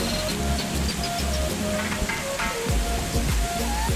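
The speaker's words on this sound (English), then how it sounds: "The skies opened up and unleashed torrential rain, followed by thunderclaps so loud you couldn't hear your own voice anymore." Torrential rain pours down hard and steadily during a thunderstorm on a volcano climb, with low rumbling thunder rolling underneath, loud and close throughout.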